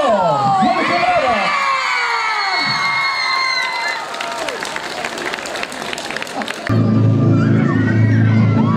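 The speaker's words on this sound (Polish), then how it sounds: "Wielkie brawa!" A festival crowd at the outdoor summer concert „Z Pogórza Lato Rusza” cheers, whistles and applauds as the next act is announced, loud and dense, then a low musical intro swells in at the end.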